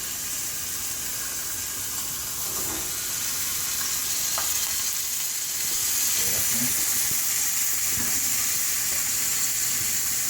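Short ribs searing in a hot pan, a loud continuous sizzle and hiss that swells slightly midway, with occasional soft clicks of the meat shifting.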